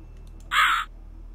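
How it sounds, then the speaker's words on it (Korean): A single loud, close crow caw rings out sharply against near silence in the eerie forest of the Rusty Lake Hotel game, lasting under half a second. "아, 까마귀."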